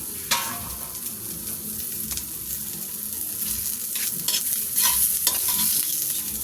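Garlic, ginger and onion sizzle steadily in a little oil, with occasional sharp scrapes and clinks as a utensil stirs them in the pan.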